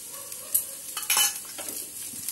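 Onions and chopped green chillies being stirred in a frying pan, a spoon scraping and knocking in a few quick strokes over a steady close sizzle, with no talking.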